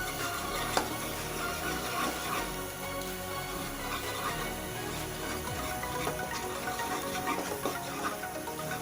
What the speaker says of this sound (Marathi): हे पण मसाले आपल्याला छान 1 मिनिट परतून घ्यायचे आहेत.